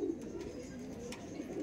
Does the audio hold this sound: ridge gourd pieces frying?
no